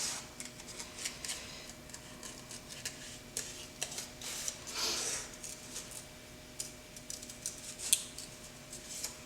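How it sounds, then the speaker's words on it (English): Scissors snip repeatedly through paper, cutting out shapes for a symmetrical notan collage; short, quiet, irregular cuts with soft rustling in a still room. "as I continue cutting my shapes"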